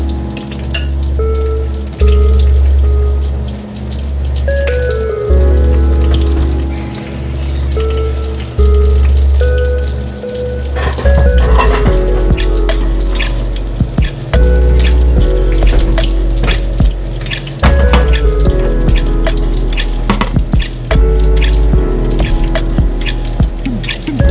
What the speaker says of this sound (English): stir fry the veggie a little bit in the same frying pan where we brown the meat